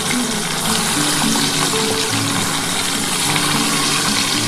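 Fesha fish pieces frying in hot oil give a steady, close sizzle and crackle throughout, with a faint low hum beneath and no talking.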